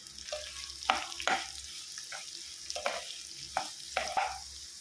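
Onions frying in a pan with mint, curry leaves and fenugreek greens while being stirred, a steady sizzle under repeated scraping strokes of the spoon, close and moderately loud.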